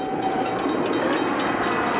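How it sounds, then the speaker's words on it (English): A train rolling along the rails nearby, a dense continuous clatter and rumble with metallic squeals above it, loud and unbroken for two seconds, with no voices. "He lets the train run over him."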